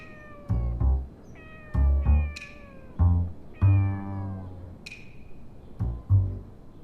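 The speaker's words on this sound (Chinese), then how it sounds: "外面怎么会这么多野猫叫啊？" Stray cats outside give a string of loud, close meows, each long wavering cry separated by short pauses, with a few higher squeals in between.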